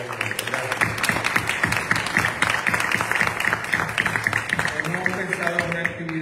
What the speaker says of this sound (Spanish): les pido un aplauso a todo el mundo para que iniciar las actividades